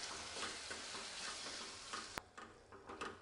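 Spices and peanut powder stirred into an eggplant curry in a pan, a steady scraping and sizzling texture with soft clicks of the spoon, one sharp knock near the end.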